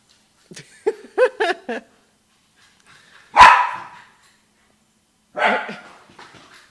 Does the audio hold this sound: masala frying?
no